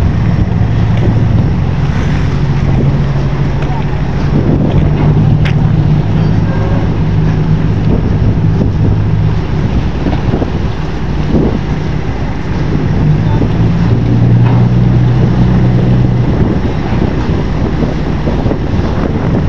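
Strong wind and waves at sea roar steadily across the microphone with a constant low rumble, like rough water and an engine beneath, loud and unbroken throughout.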